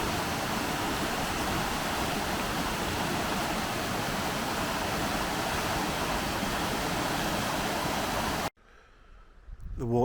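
Strong rush of the River Derwent in spate, a loud continuous roar of fast water filling most of the span before it drops sharply near the end to quieter, more broken sounds.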